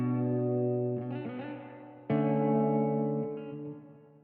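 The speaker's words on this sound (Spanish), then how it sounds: "Pero ¿qué tal que le ponemos un poquito de reverb?" An electric guitar run through a hybrid reverb effect rings out in sustained chords, the notes blending into a lingering, washy tail instead of stopping dead.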